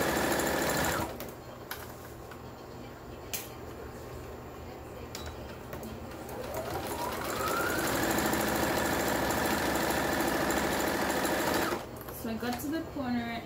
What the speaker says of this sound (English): place it under your foot, and sew about an eighth of an inch